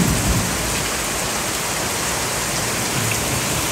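Heavy rain pours down steadily, a loud, even hiss of drops striking surfaces with faint low thuds now and then, continuous throughout with no talking.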